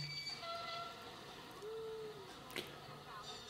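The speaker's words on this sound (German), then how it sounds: "dann haben wir die Bahn, die fährt hier rein" A train pulling in at a beach setting, its faint rumble carried with a brief tonal horn or whistle note in the middle, recorded at low level with a soft hint of voices in the background.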